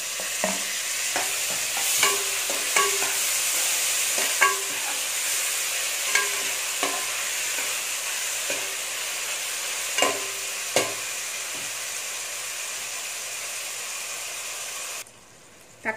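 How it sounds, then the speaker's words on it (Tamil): Chopped tomatoes sauté in a pan for Andhra-style raw jackfruit kurma, a steady frying sizzle broken by periodic scrapes and clicks of a spoon stirring, close and alone until the sizzle cuts off near the end. "தக்காளி நல்லா வதங்கிடுச்சு."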